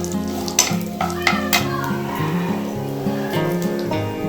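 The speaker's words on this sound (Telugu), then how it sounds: "ఎల్లుల్లిపాయలు వేద్దాము." Garlic and spices fry in a pan for a bottle gourd peel chutney, giving a close, busy sizzle with sharp scraping stirs and clatter throughout.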